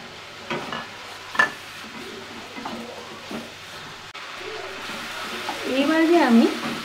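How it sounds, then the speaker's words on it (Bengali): Chopped tomatoes added to slit green chillies frying for a tilapia fish curry, a moderate sizzle with occasional utensil knocks and stirring, while a voice speaks over it. "এইবার টমেটো কুচি দিয়ে দিলাম।"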